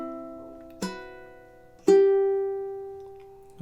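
Measure seven of Satie's Gymnopédie No. 1 rings out on ukulele with slow, sparse plucked notes, a held tone, then two more distinct plucks, each left to decay, close and without talk.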